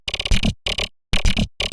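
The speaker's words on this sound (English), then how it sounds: "It's the growl from earlier, but chopped like really, really small" Growl sample chopped into very short slices with effects off, playing as stuttering, buzzy bursts in a choppy rhythm separated by abrupt silences.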